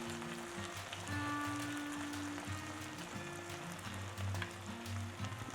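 Elk poppers sear in a hot pan with a steady, close sizzle and crackle that holds evenly throughout, with low hums and tones running underneath.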